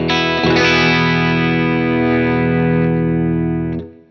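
Electric guitar played through an amplifier with effects, one loud sustained distorted chord with a chorus-like shimmer that rings out steadily for several seconds before being cut off.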